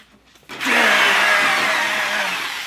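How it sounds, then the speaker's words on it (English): A sawzall reciprocating saw starts up and cuts through a metal bed frame, a loud, steady buzzing rasp that holds for about two seconds and then eases slightly. "Grab my sawzall."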